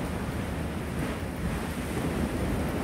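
Ocean waves wash and churn beneath a pier on the Blackpool seafront on a wet, windy day, a steady broadband roar with wind buffeting the microphone throughout.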